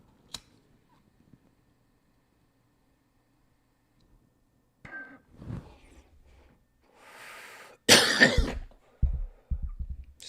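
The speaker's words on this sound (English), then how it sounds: "Sorry for coughing into the microphone." A few sharp coughs close to the microphone, the loudest burst near the end, after a quiet stretch with faint clicks and shuffling.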